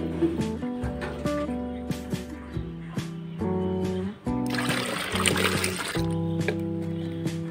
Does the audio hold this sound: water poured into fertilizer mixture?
yes